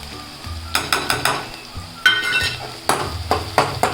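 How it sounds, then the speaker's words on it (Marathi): Spices tossed into browned onions in a pan for egg bhurji, sizzling in oil while a spoon scrapes and clinks against the pan in several short bursts. "कांदा लाल झाला आता हे मसाले टाकते"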